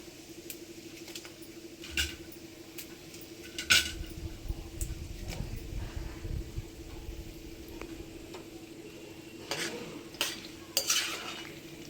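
Six or seven dried red chillies fry with a little cumin in a pan for amla pickle, crackling faintly and steadily while a utensil clinks and scrapes now and then, in bursts near the start and end.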